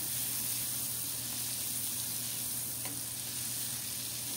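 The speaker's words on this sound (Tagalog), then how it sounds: "Hahaluin lang ho natin na rin hanggang sa matunaw yung ating marshmallow." Marshmallows melting in butter in a pan, stirred until they dissolve, give off a steady, moderate sizzle with a constant hum underneath and no voices.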